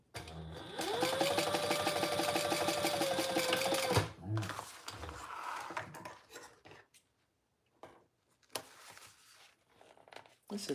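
A sewing machine topstitches a middle pocket piece on a sling bag, running steadily for about three seconds before stopping, followed by fabric handling and a voice talking.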